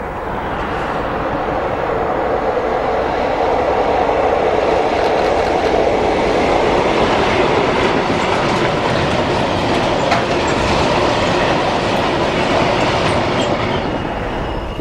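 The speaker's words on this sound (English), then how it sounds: "2301 and 302 worked this train from Whitemoor to Tallington on the 11th of April." Vintage diesel locomotives haul a freight train past at full strength, a steady loud rumble of engines with continuous clattering wheels on rail and faint squeal throughout, no voices.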